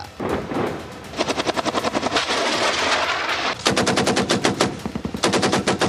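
Rapid machine-gun bursts from cross-border shelling, sustained and loud, with dense rattling volleys broken by brief pauses and a few heavier booms, no voices.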